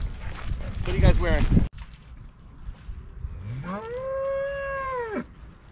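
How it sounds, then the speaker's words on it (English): A cow moos once in the background at a Colorado fly-fishing camp, a long, loud, drawn-out low call rising and holding before cutting off, after a burst of nearby talking. "Got the cows in the backdrop."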